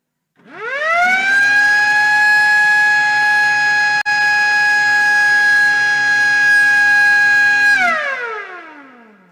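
A siren set off by pressing a button at an inauguration ceremony for a smelter in Gresik rises swiftly to a loud, steady wailing tone, holds for about seven seconds, then winds down in a falling glide, with no voices.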